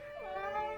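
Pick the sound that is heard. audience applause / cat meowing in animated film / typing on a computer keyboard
cat meowing in animated film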